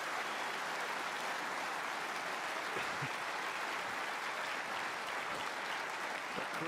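Crowd applause fills the Crucible after a snooker shot, a steady, dense wash of clapping that holds at full strength throughout.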